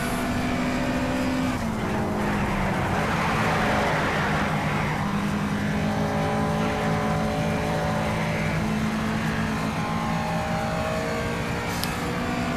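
Race car engine from Need for Speed Shift, a steady loud high-revving drone with gear shifts and shifting pitch throughout, close and continuous, with a brief tyre squeal near the end.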